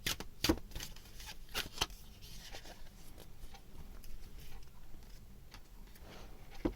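A deck of Animal Messages oracle cards is shuffled close up, giving soft papery riffles and sharp slaps and taps in irregular bursts, quiet throughout with no talking.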